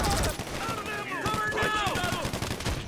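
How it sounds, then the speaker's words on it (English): Gunfire in a first-person shooter game on a casino map, with dense bursts of shots and automatic fire close by, mixed with other game sounds throughout. "I can't even tell half the time where the shots are coming from."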